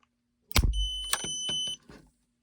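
A digital scale gives a few sharp electronic beeps, steady high tones with thumping handling noises between them, then silence.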